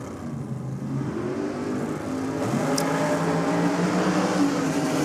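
Chevy S10 drag racer with a 615-cubic-inch big block Chevrolet running nitrous oxide, a loud continuous engine roar that builds and holds as it races down the strip, heard from a distance.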